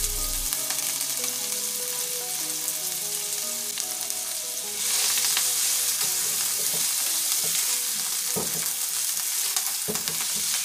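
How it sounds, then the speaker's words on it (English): Sweet corn and fresh cilantro sizzle and fry steadily in a pan while a spoon stirs them, the hiss loud and continuous, with scraping knocks toward the end. "Give it a nice stir."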